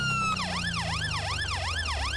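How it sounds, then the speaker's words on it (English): An emergency vehicle siren wails in GTA 5 during a firefighting run to a hazmat incident. It holds a loud, steady, rising and falling cycle that repeats about five times over a low engine rumble. "So we'll put the siren on to let them know we're coming."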